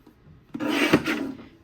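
A single quick rasping slice as a paper trimmer cuts cardstock for a card kit, a short close scrape lasting about a second with no talk.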